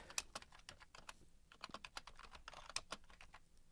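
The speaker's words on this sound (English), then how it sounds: "And then type the caption." Rapid, irregular keystrokes on a computer keyboard while entering HTML5 figure caption code in Dreamweaver, a close, steady patter of crisp clicks with short pauses and no voices.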